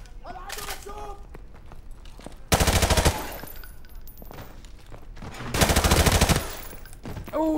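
Automatic gunfire in Call of Duty: Modern Warfare Remastered on PC, with two loud sustained bursts of rapid shots standing out over a busy in-game battle soundscape and scattered smaller impacts.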